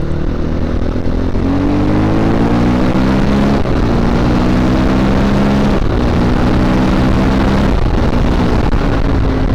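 Viar Cross X 250 ES, a 250 cc trail motorcycle, revved hard while riding a straight road, with a loud continuous engine roar that rises in pitch through several gear pulls.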